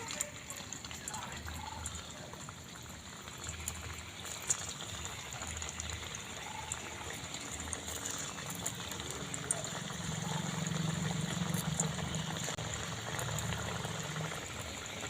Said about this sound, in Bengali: তেল গরম হয়ে গেছে তেলের মধ্যে এক এক করে দিয়ে দিচ্ছি